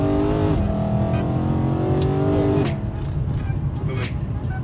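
A BMW E92 M3's 4.0 V8 with DCT gearbox roars deeply as it accelerates hard in first gear, its pitch climbing steadily before a gear change drops it lower, loud and close.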